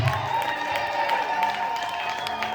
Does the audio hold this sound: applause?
yes